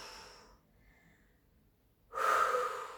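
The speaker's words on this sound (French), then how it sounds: "Allez, soufflez bien." Forceful exhale during a bodyweight strengthening workout, one close, breathy rush of air that starts abruptly and tails off, following a brief quieter breath.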